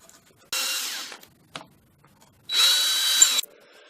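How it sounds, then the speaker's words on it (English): A power drill bores holes into veneer chipboard in two bursts of about a second each, a loud close whine with a brief tap between them and silence around. "I've already drilled the pilot holes here and I need to extend them into the second board."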